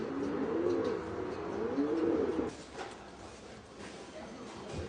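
Racing pigeons cooing in their loft, a series of soft, rolling coos that grow louder in the first half before fading into quieter room noise, with faint speech and shuffling underneath.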